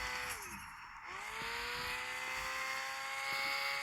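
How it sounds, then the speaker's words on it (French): A car drifting in a racing video game, the engine's steady whine sliding down and climbing again, with a continuous hiss of tire squeal throughout, loud and close with no talk over it. "Oh, le drift est incroyable."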